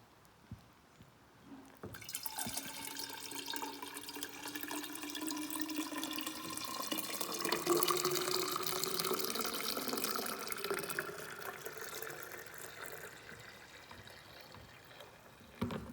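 Cold tap water pours steadily into a container while brewing kombucha, a continuous rushing splash that starts after about two seconds and stays moderately loud, with faint speech underneath.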